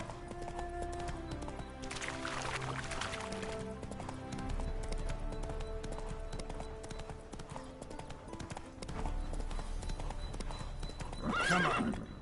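Horse hooves clip-clop steadily in The Witcher 3 game, with a horse neighing and whinnying as it is spooked by ghosts, alongside a low musical score; a sharper whinny rises near the end.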